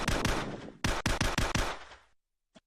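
Semi-automatic and automatic gun firing in a VR first-person shooter game, a close, loud burst of rapid shots, a short pause, then another quick string of shots that ends abruptly, with one last faint click.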